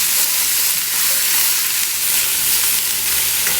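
Celery and other vegetables sweating in a pan for chicken and dumplings, giving a loud, steady sizzle with soft stirring scrapes and no talking.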